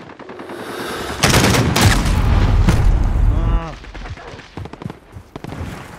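Heavy gunfire and booming blasts in Call of Duty: Modern Warfare multiplayer, a loud sustained barrage for a couple of seconds, then scattered shots and radio-style voices speaking.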